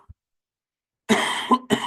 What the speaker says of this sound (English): I knew that was going to make me cough.